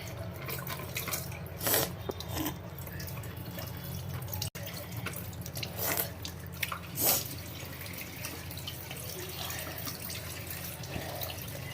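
Water trickles and drips steadily from a tap into a sink, with occasional louder splashes as hands move under the stream.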